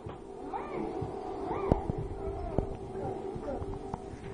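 A cat meows indoors, giving several short, quiet, rising calls close by over a low background hum, with a soft voice speaking between them.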